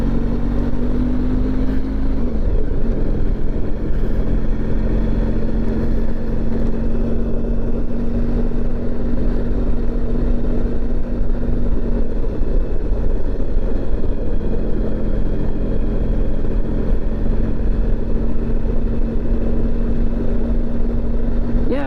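A Honda ST1100 motorcycle ridden on a back road gives a steady droning engine note with wind rush, holding an even tone throughout with a brief shift near the start, close and continuous.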